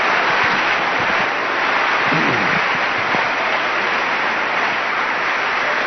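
Congregation applauding in a church service, a steady dense wash of clapping that fills the whole stretch at even loudness, with no voices standing out.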